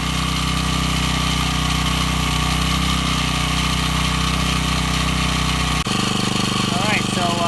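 A Firman generator's small engine runs steadily at a loud, even idle drone, then shifts abruptly to a rougher, pulsing note near the end as the carburetor runs dry.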